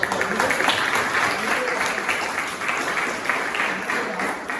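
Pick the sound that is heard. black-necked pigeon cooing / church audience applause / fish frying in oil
church audience applause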